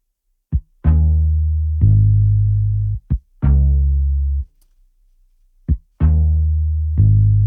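Guitar chords in an FL Studio Afrobeats beat sound in a repeating rhythm, each bar opening with a quick pluck followed by ringing chords that decay, clean and alone with a short gap midway.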